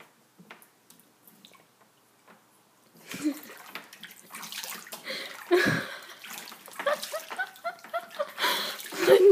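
A small child splashes and sloshes water in a bathtub, with irregular close wet slaps and squishes building in the second half after a quiet start, while an adult speaks over it.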